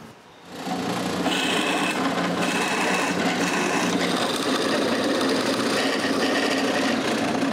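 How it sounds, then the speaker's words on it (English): A power drill whirs steadily and loudly after a brief quiet start, with a rasping, grinding edge as the bit bores holes through wooden dresser frames. "I mark where I should drill the holes in the frames and drill them."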